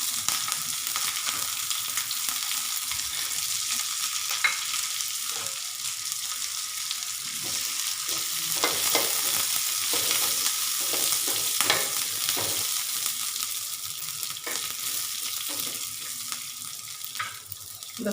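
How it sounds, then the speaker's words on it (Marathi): Peanuts and green chilies dry-roast in a pan for spicy chili thecha, giving a soft continuous sizzle broken by scattered stirring scrapes and light rattling across a long, even stretch. "मिरच्या थोड्याशा भाजत आल्यात, आता त्याच्यात मी शेंगदाणे टाकते भाजायला।"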